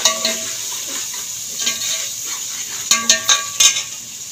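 Masala frying in a pot for a meat curry: a low sizzle under a cluster of sharp metal spoon clanks and scrapes, mostly near the end, with no talking.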